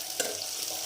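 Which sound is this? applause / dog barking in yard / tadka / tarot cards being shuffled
tadka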